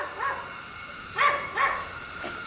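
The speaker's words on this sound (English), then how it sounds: "This is the crazy dog that barked at us when we came up." An agitated dog barks outside near an abandoned hotel and film set in Penang, Malaysia, letting out three or four barks at moderate distance over steady background noise.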